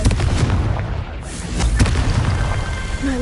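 Confringo blasting spells from Hogwarts Legacy, a run of heavy booming explosion bursts going off in quick succession, loud and close, with a thin whistling tone near the end.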